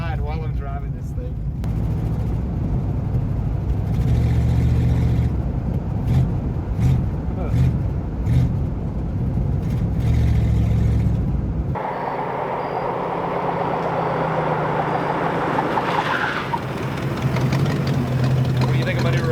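A junkyard 1966 Ford Mustang with a V8 runs as it is driven, a rough low engine rumble heard from inside, with a person talking over it through much of the stretch.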